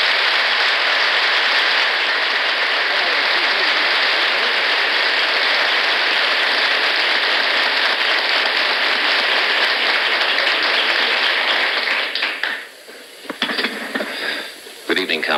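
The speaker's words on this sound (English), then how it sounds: "Would you welcome, please, Mr. Jake Ehrlich." A studio audience claps to welcome a television guest, a dense, steady roar of applause that thins into scattered claps over the final seconds.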